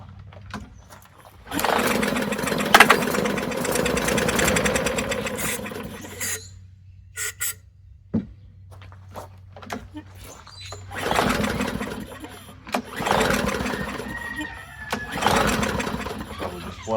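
A non-running push lawn mower engine cranks and pops in repeated bursts, sputtering without catching, with quieter gaps between pulls; a person talks faintly in the background.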